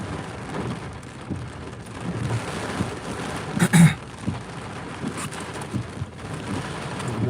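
Heavy rain pours down during Hurricane Milton in Sarasota, Florida, a dense continuous hiss with a louder splashing burst midway and gusty swells, no talking.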